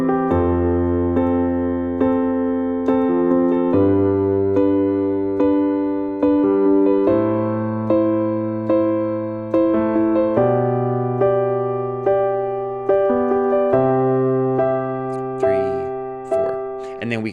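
Worship-style piano progression with sustained chords, the right hand striking rhythmically on repeated beats and steady decaying attacks across a moderate tempo, played alone without any voice.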